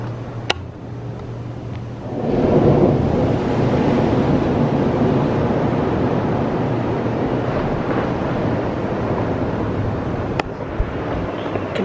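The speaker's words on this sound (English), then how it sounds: "You can literally just hear the waves crashing." Ocean waves crash on the beach at Hikkaduwa, Sri Lanka, a broad rushing surge swelling in after a quiet start and washing on continuously, with a low hum and some wind buffeting underneath.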